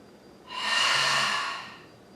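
A single slow ujjayi breath during a relaxation breathing exercise, a soft airy hiss swelling and fading over about a second and a half, close and alone.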